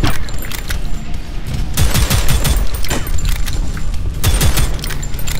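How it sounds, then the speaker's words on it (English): Explosive barrels shot in Prodeus, a fast retro first-person shooter, erupt in loud continuous booms and crackling blasts layered with rapid gunfire, dense and close for the whole stretch. "Gotta shoot those explosive barrels up there."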